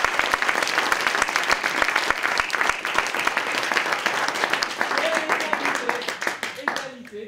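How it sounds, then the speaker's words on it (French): Audience at an improv theatre show applauding the two players at the end of a tied match, steady dense clapping throughout with a voice talking over it, thinning out toward the end. "On peut applaudir les deux joueurs."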